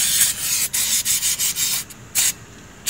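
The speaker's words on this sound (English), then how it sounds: "Now get your little brake cleaner. Clean that out. Clean them rollers and stuff out." Brake cleaner sprays from an aerosol can onto the rear brake rollers and parts of a 2006 Dodge Charger: a rapid series of loud, close hissing bursts with brief gaps, then one final longer spray.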